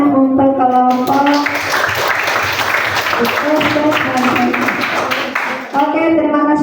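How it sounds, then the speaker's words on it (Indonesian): Classroom applause for a student group: sustained, fairly loud clapping from many hands mixed with a tonal voice or music line running underneath throughout. "tepuk tangan untuk kelompok"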